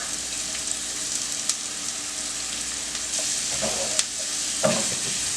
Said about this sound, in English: We're going to cook this down for about 15 minutes until the onion and jalapeno is nice and soft.